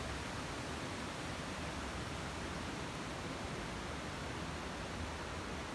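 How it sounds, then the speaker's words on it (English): Distant splashing water of the roughly 300-meter-high Jiulong waterfall on Yellow Mountain, heard as a steady, even broadband rush that stays constant throughout, with no voices. "From here, I can hear the water splash sound is getting bigger in distance."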